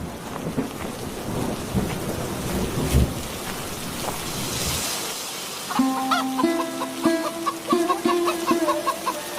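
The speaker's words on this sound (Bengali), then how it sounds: "এদিকে সন্ধ্যা হয়ে এলো, বৃষ্টিও শুরু হয়েছে।" Cartoon rain pours steadily with a loud thunder rumble early on, then chickens cluck and squawk in a farmyard over the continuing rain.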